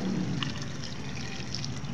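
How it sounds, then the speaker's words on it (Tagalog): Hot water poured into a pot of simmering pork adobo with broth in a home kitchen, a steady close trickle and splash running without pause for about two seconds, with no talking. "Lagyan na po natin ng mainit na tubig"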